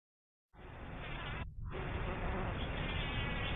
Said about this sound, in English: let's see if you can hear the bees buzz again tonight